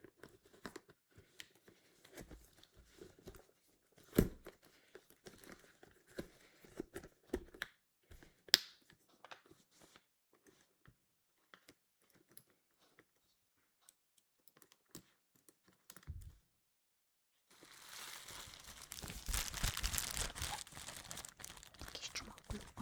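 Small packaging material from a Loungefly bag is handled close up and softly, with scattered faint crinkles and taps, then a denser stretch of crumpling near the end.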